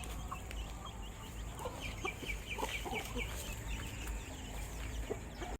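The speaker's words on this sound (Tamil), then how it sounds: "இதாங்க நாங்கள் வளர்த்துற நாட்டுக்கோழி." Native country chickens cluck repeatedly amid steady background noise in a village, several birds calling in short, scattered bursts close by.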